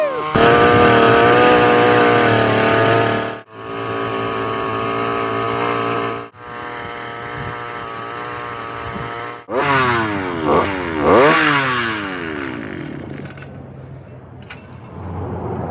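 Vintage-style two-stroke engine on a homemade motorized bicycle buzzes loudly and steadily, cutting out briefly twice, then revving up and down in rising and falling sweeps before fading, close by.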